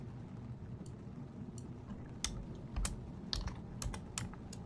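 Keys clack on a computer keyboard while someone codes, a quiet run of irregular taps and a few louder strikes against a low background hum.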